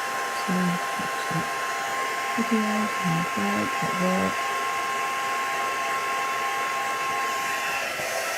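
A hair dryer blows steadily over a craft piece, a continuous broadband whoosh running the whole time at an even level, with a few brief murmured voice sounds partway through.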